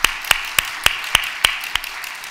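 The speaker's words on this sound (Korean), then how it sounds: "우리 예수님 오신 걸 다시 한번 박수 한번 치십니다." Church congregation clapping during a Christmas worship service, a series of sharp, evenly spaced unison claps, about eight in a row, fading toward the end.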